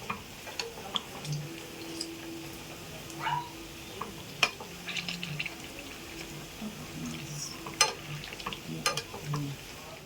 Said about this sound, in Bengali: আমি হালকা করে সব ভেজে নিয়েছি